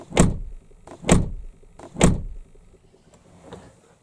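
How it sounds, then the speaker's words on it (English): A 2006 Jaguar S-Type's door shuts three times in a row, each a solid close thump about a second apart, followed by fainter mechanical clicks. "The door closing."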